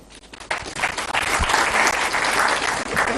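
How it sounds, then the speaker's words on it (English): An audience at a student question session with Pakistan's Prime Minister Anwar Ul Haq Kakar breaks into loud, sustained applause, a dense wash of clapping that swells quickly and holds steady. "this one generally deserves a clap"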